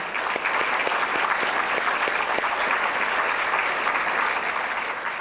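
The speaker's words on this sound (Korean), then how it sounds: "박수 부탁드립니다." Conference audience applauding two honored veterans, a dense, even wash of many hands clapping at close range, sustained and uninterrupted with no voices over it.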